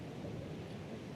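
Wind and rain sweep across an outdoor rugby match in a steady, dull roar, a constant blustery wash with no voices over it.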